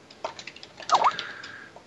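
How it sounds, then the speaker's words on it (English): Brief burst of computer keyboard typing, a quick run of light key taps entering a web address, fairly quiet with no speech over it. "someone asked me to type the URL in chat, so I'll do that here"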